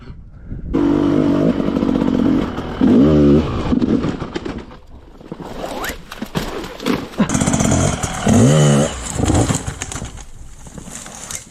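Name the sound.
enduro motorcycle revving while trying to climb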